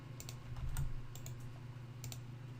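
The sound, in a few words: typing on a computer keyboard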